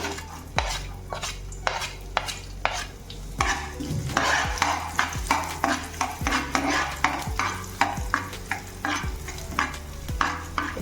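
Ginger and chopped garlic sizzle in a pan for soya chilli, under a steady rhythm of repeated spatula knocks and scrapes against the metal, close and fairly loud, with no speech.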